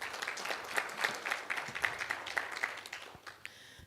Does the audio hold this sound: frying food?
no